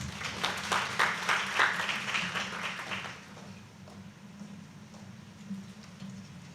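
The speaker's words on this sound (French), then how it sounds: "Sous vos applaudissements, s'il vous plaît." An audience at a workshop claps to welcome a speaker, a burst of steady applause from a room that fades after about three seconds into a quiet hum.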